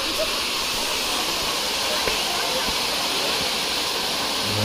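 A Meghalaya waterfall roars as a continuous, even wash of falling water close by, with no break in the steady rush.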